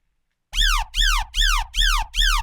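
A Serum synth patch imitating a siren, five loud swooping tones in a row, each rising then falling in pitch, repeating evenly with short gaps between them, alone and close.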